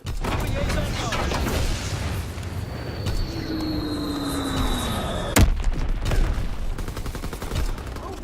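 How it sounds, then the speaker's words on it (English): An Azon bomb falls with a descending whistle and then bursts in a sharp, loud explosion amid constant gunfire and battle noise in a war video game; voices shout over the din. "Dropping Azon bomb!"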